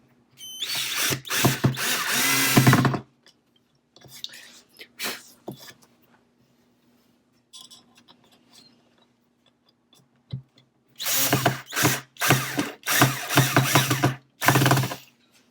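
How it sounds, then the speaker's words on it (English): A power drill drives screws into a DIY wooden tray, heard as close, loud whirring bursts at the start and again near the end, with quieter clicks and handling noises between. "now I'm going to finish off by putting these screws in"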